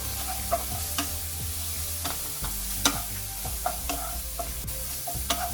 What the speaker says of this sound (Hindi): अभी इसको लो फ्लेम में 3 से 4 मिनट तक फ्राई करेंगे, जब तक इसका रॉ स्मेल नहीं चला जाता